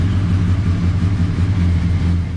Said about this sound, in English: So now I'm gonna restart the bike, let it warm up